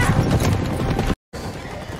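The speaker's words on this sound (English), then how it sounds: "They're horses. They're definitely gonna catch up." Horses gallop with a rapid, busy clatter of hooves, heard as loud drama-series audio with music and fan reactions mixed in, broken by a brief dropout before the pounding resumes.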